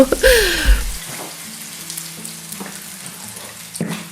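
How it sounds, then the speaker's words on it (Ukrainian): Close, steady sizzling of mushroom-filled potato pancakes frying in hot oil over high heat, with a few brief clatters and a sharp scrape at the start. "отож смажимо ми на великому вогні"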